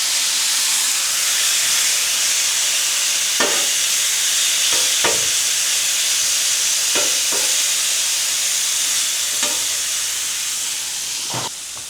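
Steak sears on a hibachi griddle with a loud, steady sizzle and hiss close by. A few soft clinks and taps come through at scattered moments.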